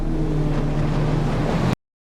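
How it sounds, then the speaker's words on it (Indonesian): Motorboat approaching a house at night in a film scene, a steady droning motor hum with water and wind noise, moderately loud and continuous before cutting off abruptly. "Mason mendengar suara perahu motor yang mendekati rumahnya"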